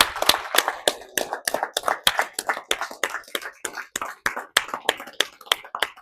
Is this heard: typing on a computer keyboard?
no